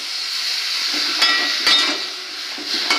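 Water splashed into a pan of sizzling red amaranth greens gives a steady, loud hiss of frying, broken by a few sharp clinks and scrapes of a utensil against the pan.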